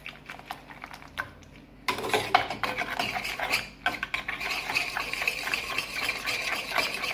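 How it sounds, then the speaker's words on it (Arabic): A spoon stirs pudding mix into milk in a pot, scraping and swishing continuously and close up, starting softer and growing busier and louder after the first couple of seconds, with no talking. "راح منحرك البودينج مع الحليب"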